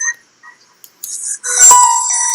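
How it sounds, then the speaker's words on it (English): A mobile phone rings during a team meeting, a few short electronic tones and chirps building into a sustained, loud melodic ringtone, with no talk over it. "Sorry, that's my phone. It's making noises."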